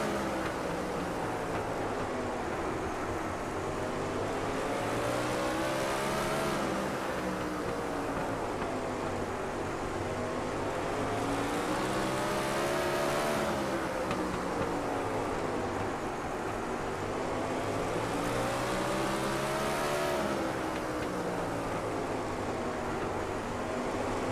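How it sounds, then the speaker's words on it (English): Race cars circulate in lap traffic on the high-banked oval at Southern National Motorsports Park, one running light on throttle; engines drone loudly and continuously, rising and falling in pitch as the cars sweep past. "So interesting to hear in lap traffic, Stanton barely on the throttle"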